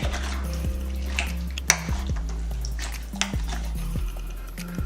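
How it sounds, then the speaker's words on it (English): Chili ingredients being stirred in a crockpot, with repeated clinks and scrapes of a spoon against the pot and wet squelching of the mixture, close and moderately loud, no talk. "So we're just going to stir this in"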